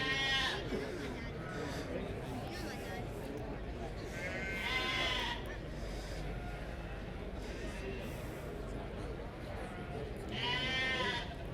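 Dutch Spotted sheep bleat at the Royal Highland Show, three loud bleats spaced several seconds apart over a busy show-ring crowd and steady talking.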